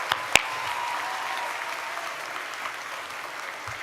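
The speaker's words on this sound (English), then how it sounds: "Everyone, please give one more round of applause." A commencement crowd gives one more round of applause for a scholarship honoree, broad steady clapping with one sharp nearby clap early on, the sound thinning gradually toward the end.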